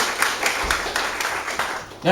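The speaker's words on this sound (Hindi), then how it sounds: "हालेलुया, जोरदार ताली यीशु के लिए।" A church congregation clapping for Jesus, a quick run of sharp claps under a preacher's loud voice in a large hall.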